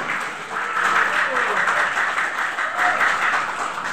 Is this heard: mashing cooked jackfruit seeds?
no